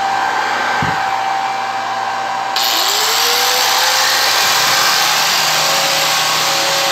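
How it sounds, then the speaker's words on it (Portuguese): An electric sander powered by a sine-wave inverter runs as a loud, steady high whine, with a click near the start and the pitch and tone shifting slightly partway through. "Agora eu vou ligar a lixadeira aqui, ó."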